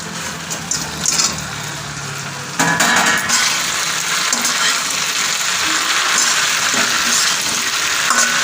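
Chicken pieces sizzle loudly in a hot pan for chilli chicken, the frying jumping louder partway through and then holding a steady crackle with occasional stirring scrapes.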